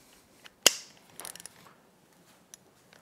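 Torque wrench tightening a bolt on a Yamaha 60 HP outboard gearcase, giving one sharp metallic click followed by a few faint ratcheting clicks, close and quiet.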